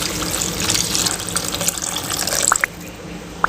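Tamarind extract is poured into vathal kulambu in a pan, a steady liquid splashing and trickling pour lasting a few seconds, with a couple of small drips near the end.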